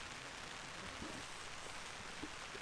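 Rain falls steadily on a tent and tarp at an MSR Hubba Hubba NX 2 campsite, a quiet, even hiss with scattered soft drop taps.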